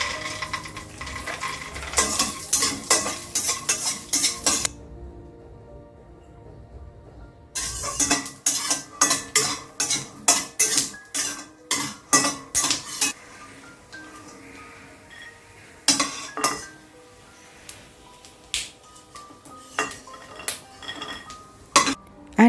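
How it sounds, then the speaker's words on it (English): Peanuts stir-fried in a kadai, heard close as rapid rattling, scraping, and clinking of a utensil against the metal pan in rhythmic bursts, with a brief quiet gap and sizzling underneath. "I'll quickly stir fry some peanuts."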